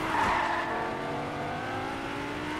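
A car in the video game Fortnite drives and skids, a steady engine drone with whining tire squeal, loud and continuous with no talk.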